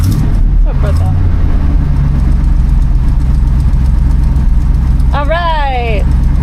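A 45-year-old truck engine runs at a loud, steady, low idle that rumbles without a break throughout. Voices talk briefly over it near the start and again near the end.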